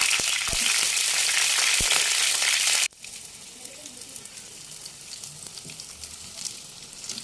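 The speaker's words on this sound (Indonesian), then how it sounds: "Selanjutnya saya goreng cabai merah dan cabai rawitnya." Loud frying sizzle of red chilies and bird's eye chilies in hot oil for a few seconds, then it abruptly drops to a softer crackle with faint clinks.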